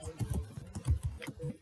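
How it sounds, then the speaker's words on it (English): Rapid, uneven clicking of keys on a computer keyboard, close and fairly quiet, typed in short bursts without pause. "now we're going to start typing 41"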